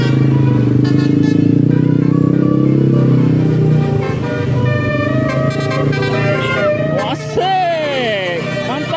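A Yamaha Mio motorcycle passes close by at a roadside bus-spotting spot, its loud steady engine drone filling the scene, then quick horn toots and whistling tones sound as other vehicles go past.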